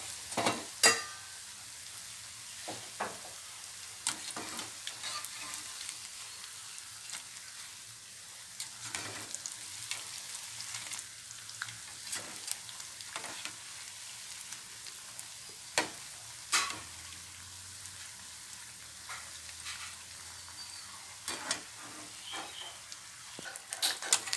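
Idli bonda fry in hot oil with a steady, fairly quiet sizzle, dotted with small crackles and pops throughout. Nobody talks over it.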